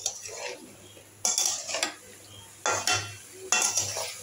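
A spoon stirs and scrapes cauliflower frying in a pan for a fish curry, with several separate bursts of clattering and sizzling spread across the few seconds, close up and with no talking.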